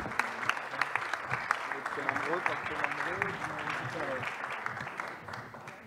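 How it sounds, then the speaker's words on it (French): An audience applauds the round table speakers at a conference on low-carbon industries, steady moderate clapping with a voice speaking over it throughout. "Et on les applaudit très fort"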